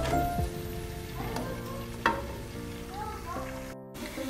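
Onions frying in a pan for Afghani pulao, giving a close steady sizzle with occasional stirring clicks and a brief moment of near silence toward the end.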